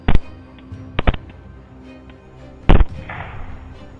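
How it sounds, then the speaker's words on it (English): Gunshots during a wild boar hunt in the fields: a few sharp, loud cracks spaced about a second apart, one doubled, with a faint echoing tail over quiet outdoor background. "Gunshots rang out in rapid succession, taking down two of the largest and fattest boars in the herd."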